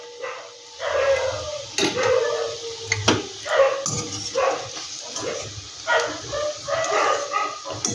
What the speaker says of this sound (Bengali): চারিদিকে কুকুরে কেমন চিৎকার করছে।